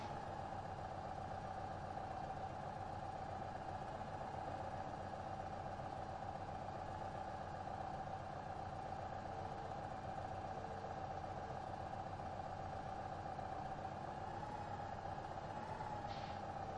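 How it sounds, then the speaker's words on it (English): Small tractor engine idling in the video game Farming Simulator 15, a steady low mechanical hum held evenly and fairly quietly the whole time, with no talking. "This is a small tractor."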